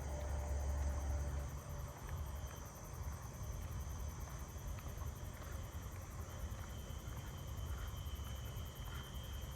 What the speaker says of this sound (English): Oh my, listen to all the tree crickets down this way.